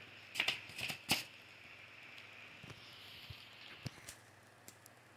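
A Hammond typewriter types in a quick cluster of sharp mechanical clacks, then a few scattered strikes follow against a quiet background. The sound is fairly faint and close, with no talking.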